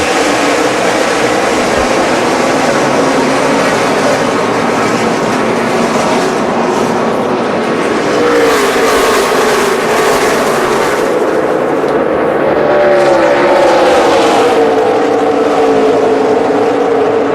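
Race cars come out of turn four at Phoenix International Raceway during the 2011 Wypall 200, a loud, continuous engine roar that swells as the pack passes close by and then fades slightly, with no voices.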